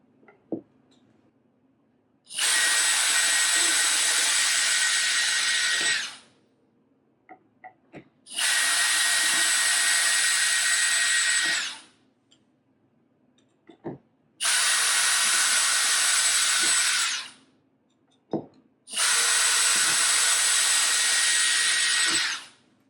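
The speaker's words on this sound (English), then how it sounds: "So we're just going to drill these up." A power drill whines in four long bursts of several seconds each, separated by quiet gaps with small knocks and handling sounds, close and loud.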